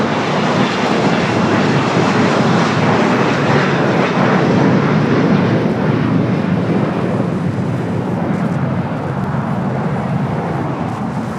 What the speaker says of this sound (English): we got Ita, the A350 now pushing back